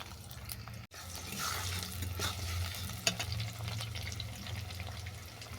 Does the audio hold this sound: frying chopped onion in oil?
yes